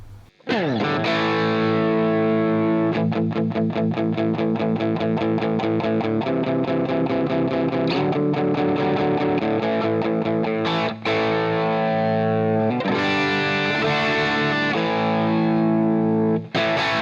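Heavily distorted electric guitar through an ML Sound Lab Pink Sabbath amp plugin on the That Classic Sound preset plays a loud, continuous riff with chugging palm-muted rhythms and sustained chords, no voices.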